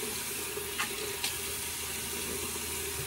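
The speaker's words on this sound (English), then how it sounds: "All right, water on the face" Running tap water flows steadily into a sink with a couple of faint splashes while water is splashed on the face before shaving, constant and close, no voices.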